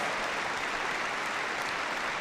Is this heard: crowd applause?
yes